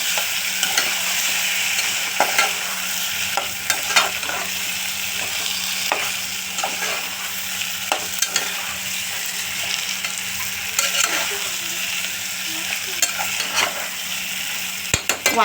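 Chopped eggplant frying in a pan with onion and tomato, a continuous sizzle broken by repeated scrapes and clicks of a spoon stirring against the metal, close and steady.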